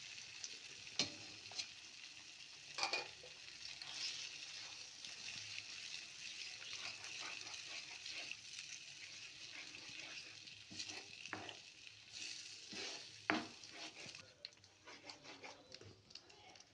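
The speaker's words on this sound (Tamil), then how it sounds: "பீட் பண்ணி வச்ச 4 எக்கை சேர்த்து நம்ம சேர்த்த மசாலாவோட நல்லா உருண்டு வர மாதிரி நல்லா கலந்து விட்டுக்கலாம்" Four beaten eggs being stirred with masala in a frying pan for egg poriyal, a quiet sizzle with intermittent scraping stir strokes and a few louder clanks of the spatula against the pan.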